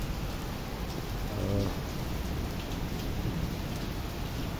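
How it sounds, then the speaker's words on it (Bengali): Heavy rain pours steadily during a storm under a dark sky, a dense, loud wash of falling water with a brief low rumble partway through. "বৃষ্টি হচ্ছে অনেক।"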